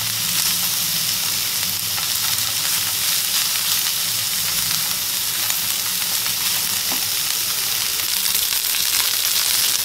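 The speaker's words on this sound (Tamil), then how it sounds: "சூடானே நம்ம மேரினேட் பண்ணி வச்சுருந்த ஃபிஷ்ஷை வச்சுருங்க." Marinated fish for a Chettinadu-style fish fry sizzles steadily in a hot pan, a loud, even hiss with faint crackles that carries on unbroken without any talking.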